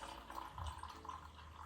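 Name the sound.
pouring stop bath liquid back into its container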